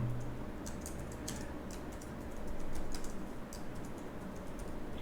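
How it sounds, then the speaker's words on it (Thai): Fingers tap on a computer keyboard, a fast irregular run of light clicks with short pauses, close but fairly quiet over a faint room hum. "ผมพิมพ์ไปเลยนะครับ"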